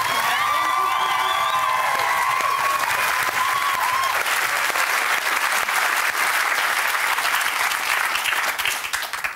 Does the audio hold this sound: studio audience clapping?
yes